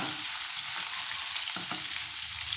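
A paste of garlic, green chili and ginger fries in a pan, giving a dense, even sizzle throughout with a couple of faint stirring knocks and no voices.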